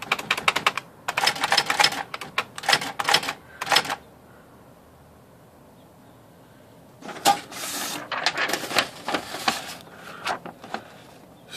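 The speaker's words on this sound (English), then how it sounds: "Let's come over here and type out numbers." Numbers are typed on a typewriter fitted with a 15-pitch wheel, rapid clacking keystrokes in two bursts separated by a few seconds of near silence, close and crisp, with no speech.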